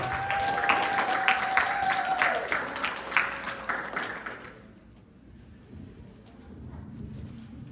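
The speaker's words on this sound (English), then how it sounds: "Now give our co-kids a loud, thunderous applause." Loud applause for fifth graders at a school pinning ceremony, a dense crowd clapping with a sustained tone over it for about four seconds before fading to quieter room noise.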